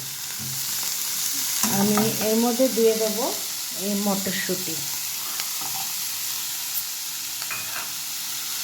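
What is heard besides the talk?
cauliflower frying in a pan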